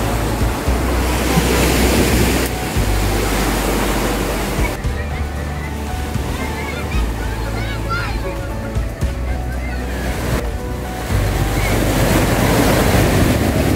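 Waves at Pantai Ngebum beach in Kaliwungu, Kendal, a loud, near surf with strong wind buffeting the microphone and swells rising and falling, with voices speaking over it at times.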